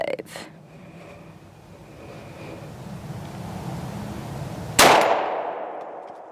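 A single sharp pistol shot from a Kimber Rapide or Rock Island 1911 cracks loudly at an outdoor target practice, ringing out briefly over steady background noise.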